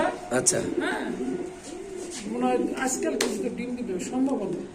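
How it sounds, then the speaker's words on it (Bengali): Male and female white Bombay pigeons cooing close by, a run of repeated rolling coos over a steady murmur, with someone talking through much of it. "এটা একটা নর কবুতর এটা একটা মাদি কবুতর"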